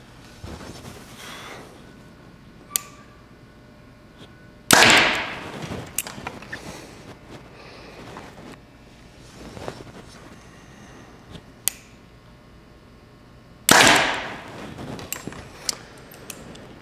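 Two sharp, loud releases from a 2022 Hoyt RX-7 Ultra compound bow, about nine seconds apart, each a crisp snap with a brief fading ring, set among faint clicks and small handling noises.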